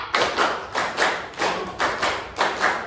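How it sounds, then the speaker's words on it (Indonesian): A class clapping together in a rhythmic pattern, groups of sharp hand claps repeated in regular bursts, close and moderately loud with no talking. "Tepuk 1, 2, 3."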